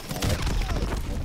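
Explosions in Call of Duty Remastered give a loud, dense burst of booming blasts and crashes that lasts about a second, close and heavy.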